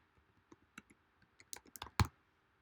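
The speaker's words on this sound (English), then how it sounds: "I'm going to type in Alan Turing" Scattered keystrokes on a computer keyboard, a few light clicks building to a quicker run of taps with one sharper, louder strike near the end, close and alone in a quiet room.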